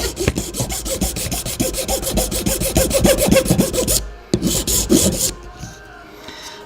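A wooden duck call insert is smoothed and shaped by hand, making rapid, even, close rasping strokes that stop near the four-second mark and return briefly before fading into quiet room noise.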